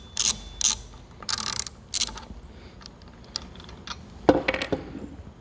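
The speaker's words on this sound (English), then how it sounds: "you turn it to the right, to the left to remove the bolt. So counterclockwise." A wrench works the bolt off a spin bike's right crank arm, turning it counterclockwise in a series of sharp metallic ratcheting bursts, close up and irregularly spaced, with a few fainter clicks between them.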